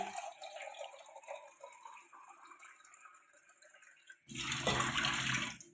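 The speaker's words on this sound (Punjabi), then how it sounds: "ਮੈਂ ਟੂਟੀ ਦਾ ਪਾਣੀ ਵੀ ਲੈ ਕੇ ਜਾਊਂਗੀ" Tap water runs in a village home, first as a softer trickle, then a loud, steady gush in the final second and a half, with no voices.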